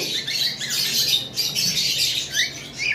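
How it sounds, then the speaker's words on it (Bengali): A pair of normal lovebirds squawks in quick, repeated bursts, shrill and close, with short gaps between calls and no talking. "এইখানে নর্মাল এক পেয়ার লাভ বার্ড রয়েছে দেখতে পাচ্ছেন"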